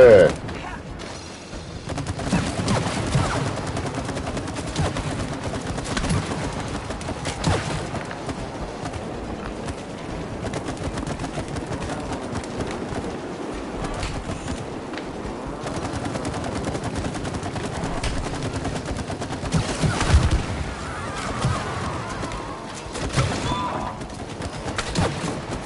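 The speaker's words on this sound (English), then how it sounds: "Just keep shooting them." Repeated bursts of gunfire from shooting enemies in the co-op video game It Takes Two crackle through the whole stretch, mixed with game effects and occasional player chatter.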